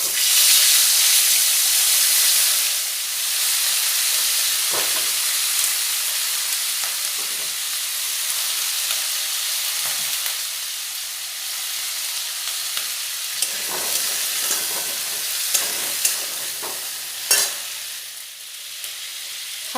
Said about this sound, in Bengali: হলুদ গুঁড়ো দিয়ে ফুলকপিগুলো খুব ভালোভাবে লাল লাল করে ভেজে নেব